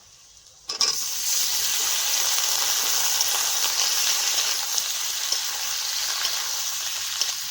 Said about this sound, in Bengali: আর তেজপাতা কাঁচা লঙ্কাগুলো লাল লাল করে ভেজে নিলাম এখন এঁচড়গুলো দিয়ে দিচ্ছি